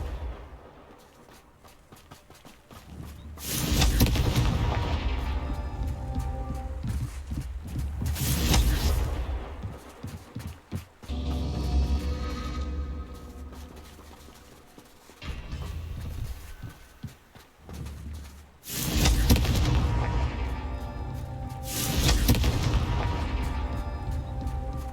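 Confringo blasting spells exploding against rocks in the Hogwarts Legacy video game: several loud booming blasts, each with a long rumbling tail, spaced out across the clip with no speech.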